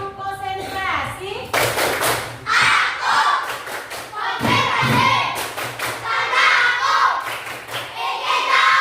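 A group of young schoolchildren performs a rhythmic clapping cheer, with sharp bursts of claps and thumps interleaved with their loud chanting voices, close and energetic.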